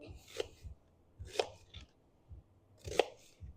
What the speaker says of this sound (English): Cut them up.